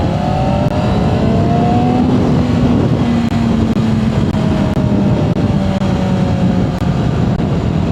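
Motorcycle engine running loud and steady while riding at low speed with the engine hot, a continuous drone with slowly shifting tones and strong wind rush throughout.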